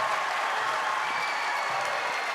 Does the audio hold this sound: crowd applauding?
yes